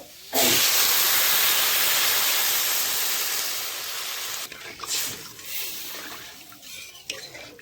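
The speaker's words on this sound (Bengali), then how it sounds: "মশলার আলু লাল লাল করে ভেজে নিয়েছি এখন পরিমাণ মতো জল দিয়ে দেব" Water poured into a hot pan of spiced potatoes fried until reddish, a sudden loud hiss of steam that slowly fades, followed by a few scraping stirs and utensil clinks nearby.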